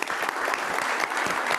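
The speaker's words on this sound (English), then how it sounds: "I think they deserve a round of applause" A room full of people at a Raleigh Kiwanis meeting clap together, a brisk, steady burst of applause that stays even and close throughout.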